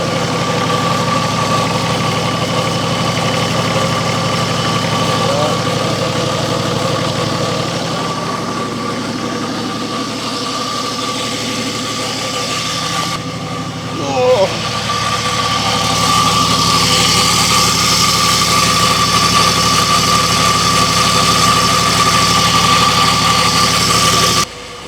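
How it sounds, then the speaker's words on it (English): An old Nissan Patrol GQ engine runs steadily for a long stretch, with a loud droning rumble and an awful whining noise from the gearbox and clutch area, close and without talk. "It sounded like it was coming from the gearbox, sort of the clutch area."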